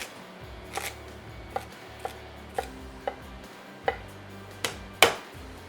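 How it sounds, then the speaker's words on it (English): A knife chopping mirepoix vegetables on a cutting board for a wild game stew, about eight sharp, distinct chops spaced unevenly over a quiet background, close by. "we get the rest of our mirepoix cut."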